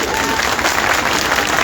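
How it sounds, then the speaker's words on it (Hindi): A big crowd at a political rally claps loudly and continuously, a dense, close, unbroken patter of many hands with a few voices faintly mixed in. "उनके नाम से जोरदार ताली बजा दीजिए"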